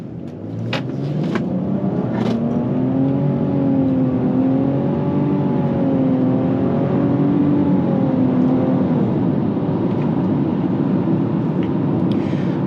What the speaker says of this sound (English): I'm just going to accelerate just so you can hear what it sounds like